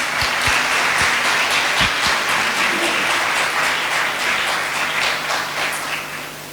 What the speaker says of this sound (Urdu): آپ ان سارے کاہنوں کے لیے زوردار تالیاں لگائیں۔